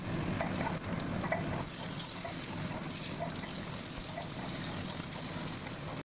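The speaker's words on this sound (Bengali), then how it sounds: "বেগুন ভাজছি আর এদিকে ফুলকপি আলু ভাজা।" Brinjal and cauliflower with potato frying in oil on two stoves in a home kitchen, giving a steady, dense sizzle that holds evenly throughout with no talk.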